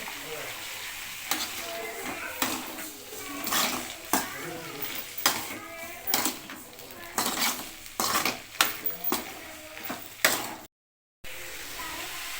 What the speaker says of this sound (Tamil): இதை எண்ணெயிலே கொஞ்சம் நேரம் மூடி வச்சு வதக்கி வதக்கி விடணும்